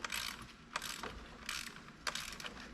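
Ratchet wrench loosening a bolt while pulling the engine from a Chevrolet Silverado Stepside pickup, close bursts of rapid clicking in short repeated strokes, with no talking.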